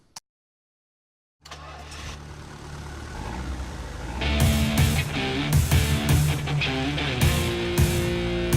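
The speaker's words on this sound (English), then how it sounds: "I used another Twingo engine sound" Renault Twingo engine sample inside a Eurobeat track: after a short silence a car engine hums at idle, then synth chords and pounding beats come in over the steady motor drone, loud and layered.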